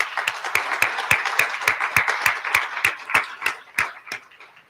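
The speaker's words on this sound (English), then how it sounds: "please help me by joining with a round of applause for our sponsors tonight" A sparse round of applause for sponsors at a Black Family Development Hope and Healing Celebration, with a few people clapping in a steady, evenly spaced rhythm that thins out toward the end.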